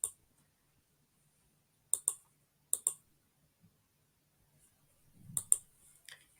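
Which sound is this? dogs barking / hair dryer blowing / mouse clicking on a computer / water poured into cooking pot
mouse clicking on a computer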